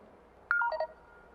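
A telephone keypad sounds a brief run of DTMF dialing tones, about four quick beeps in succession, clear against a quiet background.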